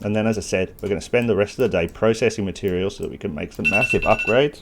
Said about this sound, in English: That's my alarm telling me to finish and go to work.